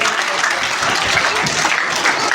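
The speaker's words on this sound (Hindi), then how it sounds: "तालियां बजाते रहे भैया बहनों के लिए।" A school crowd applauds students at a Vidya Bharati school's first annual function, the clapping merging into a thick, continuous roar that stays level and loud from start to finish.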